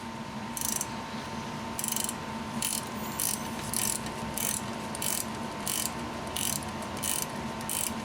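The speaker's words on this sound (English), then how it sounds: "this top nut, we'll get this snugged up" A ratchet snugs up the top nut of a front shock on a 2002 Toyota Tacoma standard cab, with about nine short, evenly spaced bursts of clicking over a steady background hum and no talking.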